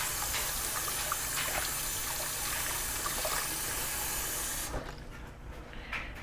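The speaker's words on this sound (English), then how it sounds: "We'll wash our hands again." Hands washed under warm running tap water with soap: a steady loud hissing gush that cuts off near the end, leaving a quieter room tone with small drips and handling noises.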